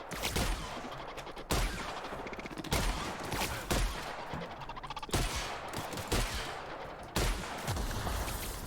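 Shotgun blasts fired at robots in The Outer Worlds game, about eight loud booming shots at irregular intervals of roughly a second, each followed by clattering impact and metallic combat noise.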